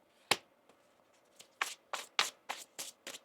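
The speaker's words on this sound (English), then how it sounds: "One more shuffle here." Tarot cards being shuffled by hand, one sharp riffle followed by a quick run of seven or eight crisp papery bursts in rhythm, close and fairly quiet with no talk.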